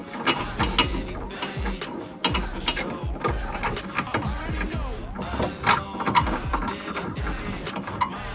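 A ratchet wrench clicks in quick repeated bursts while a bolt on a suspension part is tightened with threadlocker, the ratcheting loud and close with short pauses between strokes.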